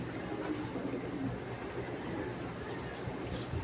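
Pigeons of an old traditional breed cooing softly and continuously against a steady low background hum.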